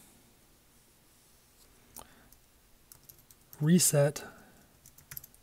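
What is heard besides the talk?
typing terminal command on computer keyboard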